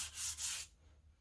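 Two brisk strokes of hand sanding scrape across primer paint on the cast iron of a McCormick Deering type M engine, close and clear, then fade to quiet.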